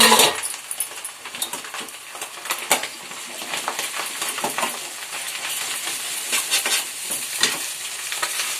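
Noodles frying in a pan while being stirred, a continuous crackling sizzle under frequent close scrapes and light metallic clinks, with no talking.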